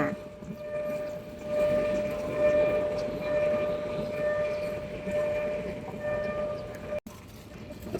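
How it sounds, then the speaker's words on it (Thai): Ordinary train no. 372 approaches the Phaya Thai stop in Bangkok, a sustained rumble of rolling cars with a steady tonal horn or squeal holding over it, fairly distant and unbroken. "ตอนนี้ขบวนธรรมดาที่ 372กำลังจะเข้ามา"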